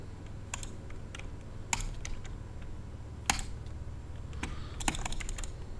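Sharp computer mouse clicks during a Minecraft Bedwars game, scattered single clicks and quick little clusters against a quiet room hum, with no talking.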